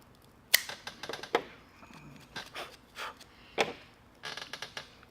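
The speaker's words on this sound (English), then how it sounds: "I'm going to go ahead and cut mine now" A Damps Maduro cigar is clipped with a cutter, giving sharp close clicks and snips among small handling taps and rustles in a quiet room.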